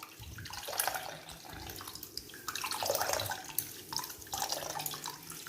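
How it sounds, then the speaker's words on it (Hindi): Water squeezed by hand from grated ash gourd pulp wrapped tightly in a cloth bundle, splashing and trickling steadily into a vessel in close, uneven bursts. "पोटली बना के इसको कस के दबाएंगे। देखिए, आप देख रहे होंगे पानी कितना है इसमें।"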